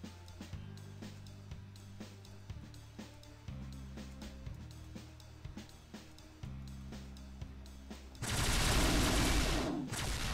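Rapid video-game gunfire from Strike Force Heroes 3 rattles off in dense bursts over an electronic music bed, ending in a loud sustained blast of noise near the end; no talking.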